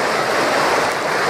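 Floodwater in Karachi pours through narrow city lanes and streets with a loud, steady, unbroken rushing roar, close and continuous, with no voices over it.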